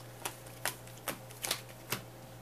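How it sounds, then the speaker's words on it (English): Playing cards shuffled by hand during a tabletop game, a series of five quick, crisp riffling bursts spaced about half a second apart, soft and close with no talking. "So I'm going to shuffle some cards here."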